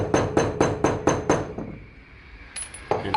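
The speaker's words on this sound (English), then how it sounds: "I will just hammer them in with the old copper ring." An old copper ring is hammered to drive a new seal into a Zenith Stromberg 175CD carburetor, giving six sharp, evenly spaced metallic taps up close, then a pause and a final clink.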